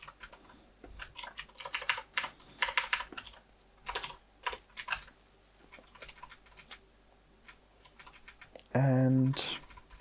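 Rapid typing on a computer keyboard during a coding session, with irregular bursts of clicking keystrokes up close, ending in a short loud electronic tone.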